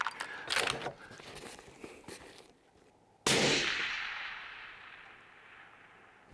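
A suppressed rifle fires at an AR500 steel deer target, giving one sharp, loud crack that decays slowly, preceded by rustling and handling noise.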